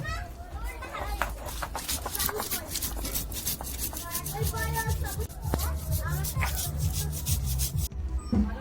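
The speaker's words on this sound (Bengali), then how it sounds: "চিংড়ি মাছের মালাইকারি করবো, তার জন্য হচ্ছে জিরে, শুকনো লঙ্কা, একটু আদা, একটু পেঁয়াজ বেটে নেব।" Cumin, dried chilli, ginger and onion being ground into a spice paste, with continuous rhythmic rubbing and scraping strokes on a grinding surface, close and steady, under a person talking and a voice.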